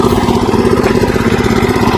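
A motor pump running in a field, a steady loud close engine drone with an even rapid chugging pulse and no breaks.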